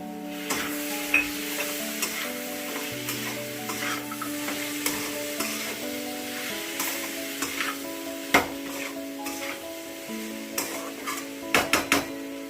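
Masala rice with soybeans stirred in a pan, with steady sizzling and frying under repeated scraping and clinks of a spoon, a few sharper knocks near the end, and no talking.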